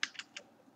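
Code being typed on a computer keyboard: three quick, close key clacks in a short burst, fairly soft and alone with no talk.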